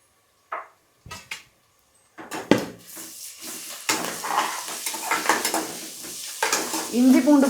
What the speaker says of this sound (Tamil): இஞ்சி பூண்டு பேஸ்ட் போட்ட உடனே லைட்டாக அடி பிடிக்கிற மாதிரி இருக்கும். அதனால் நம்ம கிண்டிக்கிட்டே இருக்கணும்.